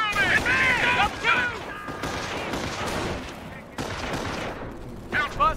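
Rapid fusillades of rifle and machine-gun fire crackle through a World War II battle in the video game Company of Heroes, loud and close, with soldiers shouting over the shooting.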